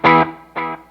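A Belle Epoch tape echo pedal sends two soft repeats of a bright, harmonically rich tone, the second echo slightly quieter than the first, set fairly loud in the mix.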